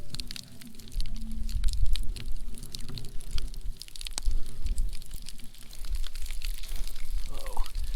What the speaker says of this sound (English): Just listen to that butter sizzle.